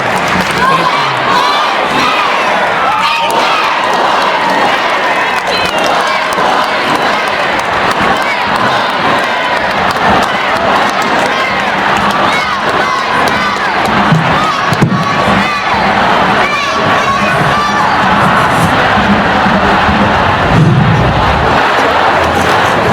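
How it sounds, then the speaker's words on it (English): Big crowd at a Black Lives Matter rally in Portland, Maine, shouting and chanting loudly and continuously, a dense roar of many voices up close with cheers rising and falling. "Really big crowd here today."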